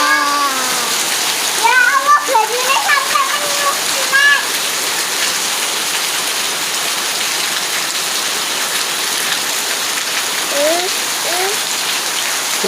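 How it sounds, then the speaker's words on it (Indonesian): Heavy rain pours steadily at midday, a dense unbroken hiss of drops close by that holds loud and even throughout, with a few brief voice fragments early on and again near the end. "Deras, sangat deras hujannya guys ini."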